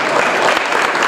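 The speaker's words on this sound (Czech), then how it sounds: "potlesk." Audience applause at an award ceremony for a nature photography competition, as a second-place medal is presented; dense, steady clapping from a crowd, loud and continuous throughout the short burst.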